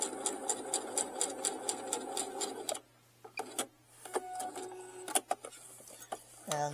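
A sewing machine stitches trolley duffel bag fabric in a rapid rhythmic run, pauses for a couple of seconds with small clicks and handling sounds, then resumes briefly with a low motor hum underneath.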